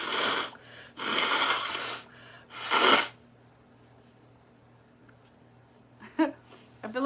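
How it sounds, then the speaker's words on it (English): Person with a mucus-filled nose blowing it hard three times in quick succession, loud and close, followed by quieter sniffling and breathing. "Let me blow my nose."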